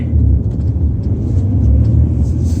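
Car cabin on a drive, with a constant loud low rumble of engine and road noise heard from inside.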